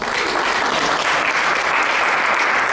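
A round of applause from an audience at a talk and demonstration, a dense, even wash of many people clapping, fairly loud and unbroken from start to finish.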